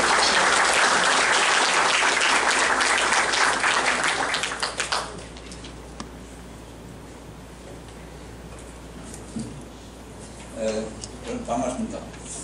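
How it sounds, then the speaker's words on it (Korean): An audience at a formal committee launch ceremony in a Seoul science hall gives loud, dense applause to welcome a speaker, fading out after about five seconds; afterward a voice speaks over the quieter hall. "환영을 큰 박수를 해주십시오"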